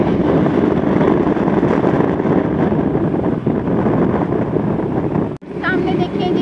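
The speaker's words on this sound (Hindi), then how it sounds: "बहुत ठंडी हवा चल रही है" Cold wind rushes loudly and steadily into the microphone during a bike ride toward Islamabad, a constant roaring buffet that cuts out briefly near the end before resuming.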